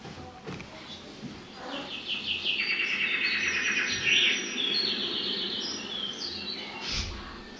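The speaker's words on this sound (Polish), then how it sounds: "słychać śpiew ptaków" Birds chirp and trill in a busy chorus, fairly close and steady, with soft background noise beneath.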